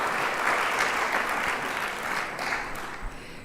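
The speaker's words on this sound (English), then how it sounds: "I think we should give them all a round of applause" A conference audience at an opening plenary applauds steadily, a dense wash of many hands clapping at once, sustained and fairly loud throughout before tapering slightly near the end.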